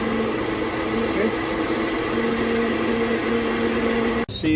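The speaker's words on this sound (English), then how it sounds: "Dryer, okay, and which is called hot gun, and we are drying this" A hot air gun blows continuously while drying a lab sample, a steady whirring hum with a tonal whine that runs throughout before cutting off abruptly near the end.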